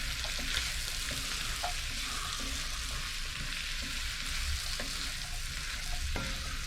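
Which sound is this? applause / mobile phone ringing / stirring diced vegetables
stirring diced vegetables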